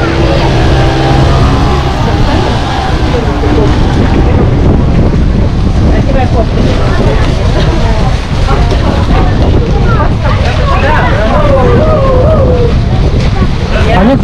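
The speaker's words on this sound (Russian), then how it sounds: "Подымается ветерок." Strong wind gusts buffet the microphone on a seaside beach in Lazarevskoye, Sochi, as heavy rain sets in, a constant roaring rush with surf in the background and someone talking throughout.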